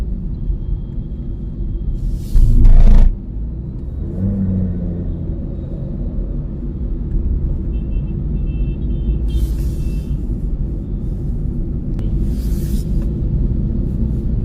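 A car driving over the Malviya Nagar flyover in Delhi gives a steady low road rumble throughout, with a louder thump near the start and faint hissing bursts later, and no talk.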